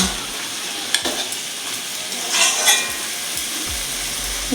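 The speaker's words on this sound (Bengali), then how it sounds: "এবারে মশলাগুলো আমি ভালো করে মিশিয়ে নেব" Ground spices stirred and fried in a pan for a spinach and tangra fish chorchori, giving a steady low sizzle broken by scattered scraping ticks of the spoon, with a brief louder frying burst near the middle.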